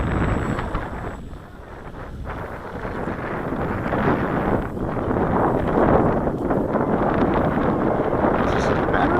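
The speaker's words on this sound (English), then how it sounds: "Look at the wind blowing." Wind blows at a model airplane flying field, buffeting the microphone in loud, gusty rushes that swell and fade throughout.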